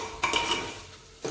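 A metal spoon scrapes and clinks against a pot while coriander-cumin powder is mixed into a valor bean curry, with a few quick close taps and scraping strokes and no talk.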